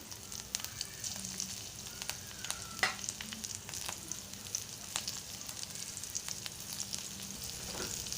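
Green chilies and garlic fry in hot oil with asafoetida, giving a soft, steady sizzle with light crackles and occasional stirring clicks, faint and close.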